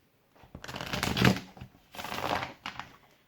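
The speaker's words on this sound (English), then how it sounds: "Okay, so which way do I have to hold the deck? I'm just gonna give it another shuffle." Someone shuffles a deck of tarot-style cards close up in two quick riffling bursts, each about a second long, with a short pause between them in an otherwise quiet room.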